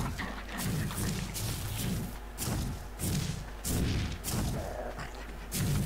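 A Diplodocus stomps in the video game Ark Fjordur, a series of heavy low thuds falling about once a second in a steady plodding rhythm, fairly faint and muffled.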